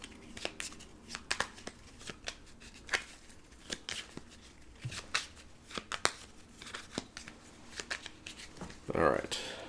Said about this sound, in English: I'm going to wait because I have to shuffle right now